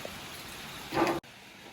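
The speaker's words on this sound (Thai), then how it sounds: "ฝนก็ตก ตกได้อีกอ่ะ" Rain falls in a steady, soft wash of hiss at moderate distance, swelling briefly before cutting out for a moment and resuming quieter.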